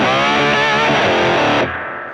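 A short burst of distorted electric guitar through a Two Notes Captor X load box rings out as a sustained chord, then cuts off and fades quickly.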